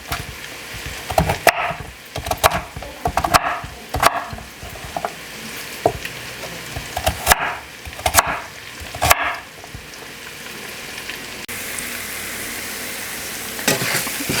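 Cabbage being sliced with a knife, a series of sharp irregular chopping thuds close up, clustered in bursts with short pauses between them.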